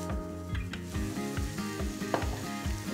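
Onions sautéing in bubbling butter in a pan, a steady soft sizzle with occasional stirring scrapes, quiet and close, no talking.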